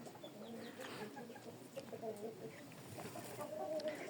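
Backyard chickens, including young hens, clucking and cooing in a busy mix of soft calls and chatter, steady and moderately near throughout.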